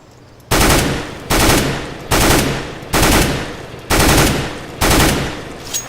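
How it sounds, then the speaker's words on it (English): Six loud, evenly spaced bursts of rifle fire from a Colt assault rifle in Counter-Strike: Global Offensive, each a sharp blast trailing off before the next, close and with no talk. "You can also do a 3-shot burst with the Colt and still be okay."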